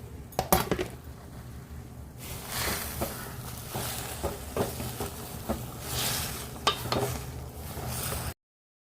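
Spinach leaves are stirred into a boiling curry pot, with a spoon clinking and scraping against the metal pot in irregular knocks over a soft bubbling, cooking hiss, heard close.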